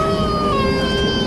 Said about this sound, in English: that noise you can hear is a baby on board.